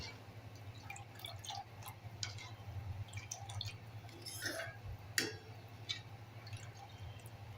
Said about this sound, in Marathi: आता ह्याला एकसारखं आपल्याला हलवत राहायचं आहे